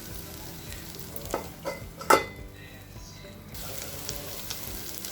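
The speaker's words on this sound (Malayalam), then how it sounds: "അപ്പോൾ ഉള്ളി ഇട്ടതിന് ശേഷം ഞാൻ മറിച്ച് നന്നായി ഒന്ന് ഇളക്കി ഇനി കുറച്ചും കൂടി ഫ്രൈ ആവാനുണ്ട്" A spoon stirs onions frying in a pan for prawn fry: a steady sizzle with several scraping strokes and one sharp clink of metal on the pan partway through.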